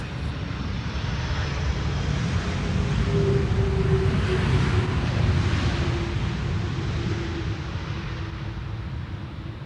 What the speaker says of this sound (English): This is KLM flight 618, arriving from Boston, Massachusetts.